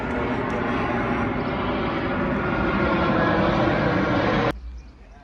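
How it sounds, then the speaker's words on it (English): An airplane coming in to land near Dubrovnik, Croatia, gives a steady, loud engine roar and broadband rush that holds for several seconds, then cuts off sharply to a faint background. "You can see here the plane going to land"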